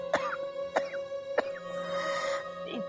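A woman coughs three times in sharp, evenly spaced bursts, close and clear, each followed by a short wheezy catch of breath, with a steady electrical hum in the background.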